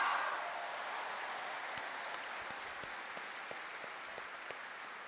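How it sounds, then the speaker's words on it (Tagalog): Broad, steady applause from a church congregation during a Mass at Quiapo Church, a diffuse wash of many hands that fades slightly at the start and continues evenly, with a few sharper claps standing out. "Ang lahat ng kaya pa, mas malakas na palakpak."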